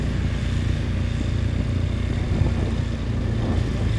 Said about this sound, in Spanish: Tienes una moto a tu izquierda.